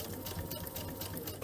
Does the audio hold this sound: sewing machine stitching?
yes